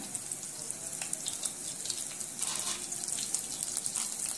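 A soft, steady hiss of curry leaves frying in hot oil in a kadhai, fairly faint, with light crackles scattered throughout and no voices.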